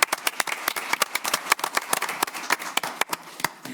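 Audience at a Dearborn Heights city council meeting breaks into applause, a lively stretch of sharp, distinct claps at close range, sustained steadily and free of talk.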